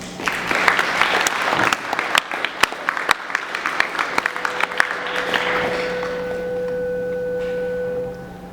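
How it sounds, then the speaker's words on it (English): Middle school student body at a school recognition assembly breaking into applause, a dense patter of claps that thins after about six seconds, leaving a steady electronic tone and faint room hum behind. "So please give yourselves a round of applause."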